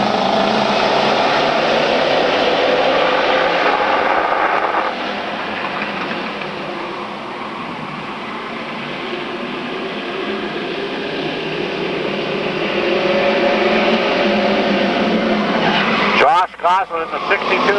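A tight pack of street stock cars roars off on a green flag restart, engine noise loud and continuous, dipping and then building again as they pass, with an announcer calling the race over it.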